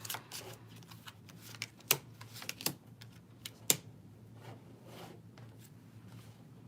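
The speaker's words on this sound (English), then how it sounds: "take 3 cards, shuffle them, and then place them face down in a row." Tarot cards are handled and shuffled nearby in quiet surroundings, giving soft irregular flicks and a few sharp snaps of card against card, separated by brief pauses.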